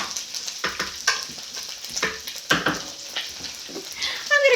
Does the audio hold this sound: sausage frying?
yes